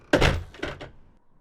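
A door is pushed shut with a single solid thunk up close, followed by a couple of softer knocks as it settles, then quiet.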